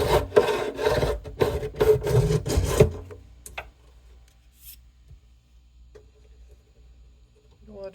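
Fret files rasping across the frets of a Blueridge BR-40 acoustic guitar during a fret level: close, steady back-and-forth strokes for about three seconds, then near silence with a few faint scrapes.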